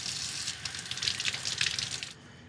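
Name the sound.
rinsing shrimp under cold tap water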